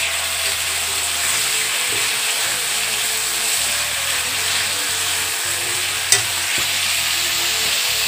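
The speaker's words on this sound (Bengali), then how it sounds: "পেঁয়াজটা ভাজা ভাজা হোক" Onions sizzle steadily in a pan as a home meat curry gets started. The frying hiss is continuous and close, with occasional faint clinks of a utensil and no talk.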